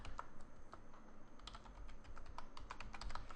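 Password keys tapped on a computer keyboard, a quick irregular run of light clicks close by, with a few sharper strikes and no talking.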